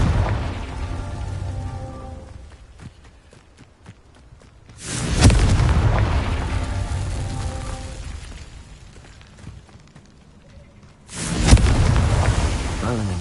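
Two Confringo spell blasts in Hogwarts Legacy burst out several seconds apart, each a sudden loud boom trailing off into a rumbling roar, with quieter game sounds in between.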